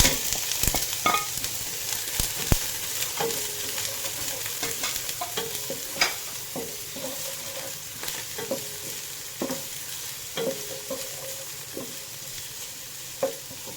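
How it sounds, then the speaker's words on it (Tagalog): Shrimp frying in a pan for ginataang santol, stirred with a utensil: scattered scraping and clinking stirs over a steady soft sizzle, close and moderately loud, with no talking. "Halo na natin yung hipon."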